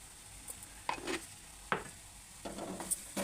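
Garam masala being stirred into a frying egg mixture in a pan over low heat: a few short spatula scrapes and clinks over a faint sizzle, close by, with no talk.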